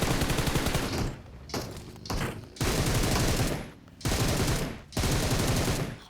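Gunfire in PUBG Mobile aimed at boats, loud sustained bursts of automatic shooting with a few brief pauses between volleys, with no talk over it.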